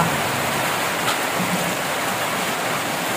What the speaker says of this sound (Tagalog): Niagas pa ang tubig diri sa hamon.